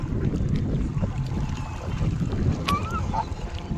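Water lapping at the shore of a large reservoir lake, Aji dam in Rajkot, with steady low wave wash and wind buffeting the microphone throughout, continuous and fairly loud with no clear talk.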